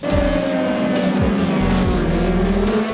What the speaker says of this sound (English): So we're on the grid then for race 2 of the Triumph Triple Challenge on the Sunday here at Brands Hatch